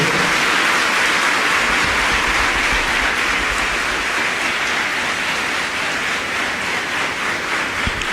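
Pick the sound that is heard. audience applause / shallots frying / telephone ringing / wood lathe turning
audience applause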